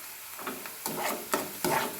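Salt being stirred into avalakki upma (flattened rice) in a pan, with four or five scraping strokes of a spoon over a faint sizzle, close and alone.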